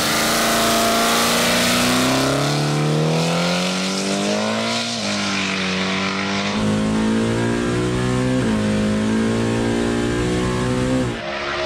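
The Big Red Chevrolet Camaro race car revs hard and continuously, loud and close, its engine note climbing through repeated gear shifts before cutting off abruptly near the end.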